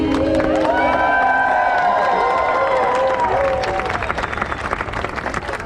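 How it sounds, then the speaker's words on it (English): An outdoor crowd at the Boston Heart Walk applauds and cheers for the singers after the national anthem, with held vocal whoops riding over dense clapping at first, then the clapping thins slightly toward the end. "one more big round of applause, please, for our singers"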